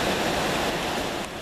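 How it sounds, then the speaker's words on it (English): Steady rushing of a river beside Lake Isabel trail, a broad, loud wash of flowing water filling the whole moment without pause. "That's the main river, I can tell."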